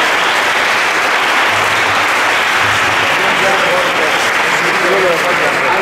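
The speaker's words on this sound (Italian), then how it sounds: "Ancora un applauso per Flavio." Dense, loud applause from an audience after a lecture on the sun and stars fills the whole span without pause, with a faint murmur of voices beneath it.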